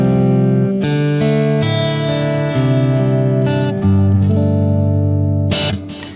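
Electric guitar through the red comp, an MXR-style compressor on a Positive Grid Spark amp, playing sustained, evenly compressed chords that change every second or so, loud and upfront, ending with a couple of sharp strums.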